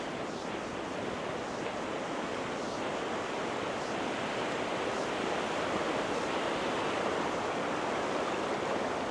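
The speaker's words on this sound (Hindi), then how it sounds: "ये पूरा नदी वगैरह पूरा बह रहा है यहाँ पे ऐसे" The Akbura river on a university campus rushes steadily in a loud, continuous broadband wash of flowing water, close by with no pauses and no talk.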